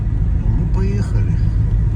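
A car drives through snowy New York streets after a winter storm, a steady low road rumble and engine drone running throughout with a voice talking over it.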